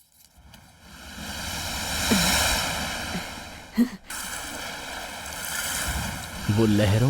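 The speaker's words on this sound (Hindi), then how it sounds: "वो लहरों की आवाज सुनाई दे रही है ना" Ocean waves and wind roll steadily in a broad wash of surf, with a sharp gust or thump midway and a voice briefly speaking near the end.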